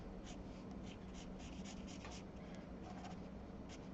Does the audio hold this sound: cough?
no